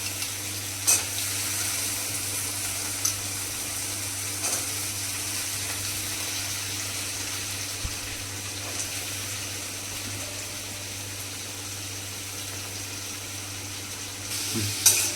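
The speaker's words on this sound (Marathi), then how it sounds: "बटाटा पाण्यामध्ये ठेवलेला आहे तो थोडासा फ्राय करून घ्यायचा आहे" Potatoes, soaked in water beforehand, fry in a pan for an Ekadashi fasting snack, a steady soft sizzle with faint crackles and a few light scraping or clinking taps, close by and alone without speech.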